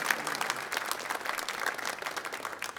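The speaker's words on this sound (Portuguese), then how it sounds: "Salva de palmas." Congregation at Mass applauds, a dense burst of many hands clapping at moderate distance, with a faint hint of voices beneath.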